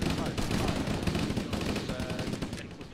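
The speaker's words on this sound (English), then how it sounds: "Don't stop firing." Sustained automatic gunfire from marines in Halo Arma 3, a dense, loud, close chatter of shots with no break across the whole stretch, voices faintly mixed underneath.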